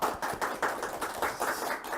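An audience at a humanities talk lecture applauds with rhythmic, fairly faint clapping in a steady pulse of bursts over two seconds, with no talk over it.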